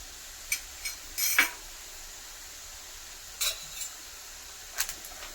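Spices are stirred into chicken pickle in a quiet kitchen, with a few brief, scattered clinks and scrapes of a spoon against the vessel and no voices.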